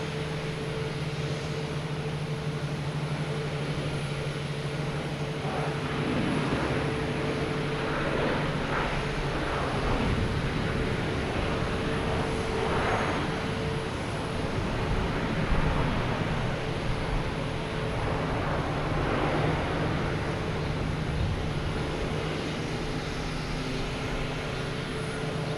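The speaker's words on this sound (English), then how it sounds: "Here's Alaska Airlines coming in from Seattle." An Alaska Airlines jet arriving from Seattle comes in to land at Boston Logan, a broad, steady engine roar with whining tones that swells and holds over a long stretch, heard close to the runway.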